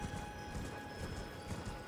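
Horse hooves clop steadily as a horse is ridden along a path in the video game Elden Ring, a continuous rhythmic beat under a low, droning ambient background.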